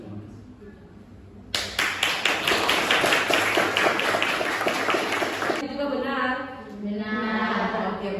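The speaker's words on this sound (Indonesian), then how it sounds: "Tepuk tangan sekali lagi untuk Bapak" Applause from a classroom audience for a presenter after a group presentation, bursting in suddenly and loudly, a dense steady clatter of many hands lasting several seconds before fading into murmuring voices.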